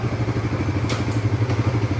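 Suzuki GSX-S150 motorcycle (2024, 6-speed) idling steadily up close with a low pulsing engine note, and brief mechanical clicks near one second and 1.5 seconds as the gears are shifted.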